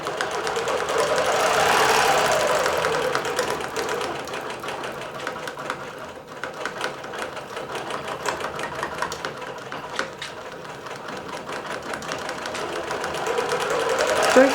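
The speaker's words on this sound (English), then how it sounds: "So that's quilting bellflowers on a butterfly quilt" A computerized quilting machine stitches bellflowers onto a butterfly quilt, its rapid needle chatter running steadily and fairly loud throughout with a faint mechanical hum underneath.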